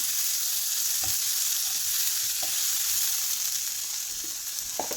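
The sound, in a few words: sautéing tomato, ginger and garlic in a pan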